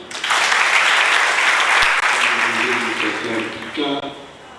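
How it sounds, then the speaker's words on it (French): Loud, dense applause at a French civil wedding ceremony for the groom newly named king, a sustained burst of clapping that gradually thins toward the end, with voices rising underneath. "On l'applaudit."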